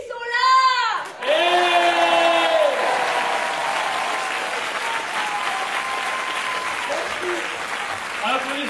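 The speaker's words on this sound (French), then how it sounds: "Applaudissements pour Belinda, donneuse de coups de pied aux fesses, c'est ça?" Loud cheering and whooping voices open over clapping at a conference, then the crowd settles into a long, steady wash of applause with occasional shouts.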